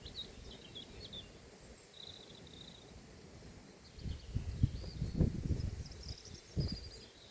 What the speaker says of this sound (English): Quiet, but with the sounds of nature,